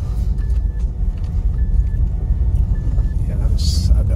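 A Honda Brio city car crawls slowly over a rocky, unpaved mountain road. A steady low rumble of engine and tires continues throughout, with faint higher tones above it.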